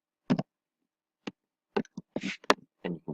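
Someone types a name on a computer keyboard: sparse, irregular key clicks, close and fairly quiet, with a quick cluster of presses near the end and silence between them.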